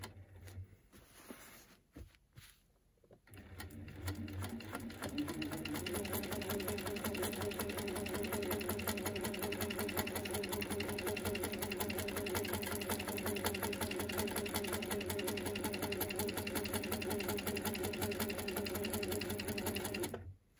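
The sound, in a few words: sewing machine free-motion quilting appliqué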